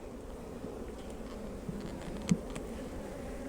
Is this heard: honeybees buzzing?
yes